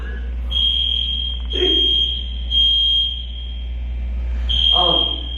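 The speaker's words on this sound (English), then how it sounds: "the fire alarm is going off" A building fire alarm sounds in repeated loud, steady electronic tones over a constant low hum, with brief pauses between blasts and a few short noises in between.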